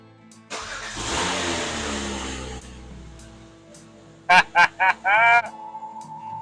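A car engine cranks with a long whirring starter that fails to catch, followed by several short honks of the horn and a final held tone, all loud and close in a quiet garage.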